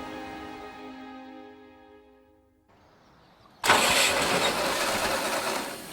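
A broken-down farm tractor engine cranks with a fading whir, pauses, then catches into a loud, rough running rumble that holds steady.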